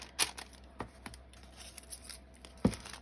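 Tracing paper trimmed with scissors and crinkled by hand, giving a few sharp separate snips and crackles with quieter rustling between them, close up and with no talk.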